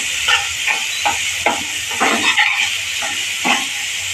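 Finely chopped onion dropped into well-heated oil in a home kitchen, loud steady sizzling hiss with bursts of crackling spatter throughout, no talk.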